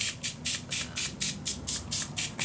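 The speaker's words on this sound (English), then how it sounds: "Then I grab a bottle and spray some water on" A spray bottle is pumped rapidly about ten times in even rhythm, each squirt a short, sharp hiss of misting water close by.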